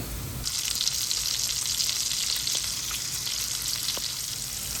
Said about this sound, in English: When it starts to stick and pop and sizzle, turn it down to medium.